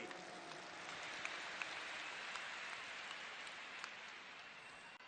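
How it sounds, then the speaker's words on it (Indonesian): Steady applause from a large crowd at a presidential campaign rally, a continuous wash of clapping heard from a distance. "Tepuk tangan untuk semua yang memilih hadir di sini."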